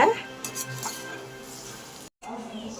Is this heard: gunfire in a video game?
no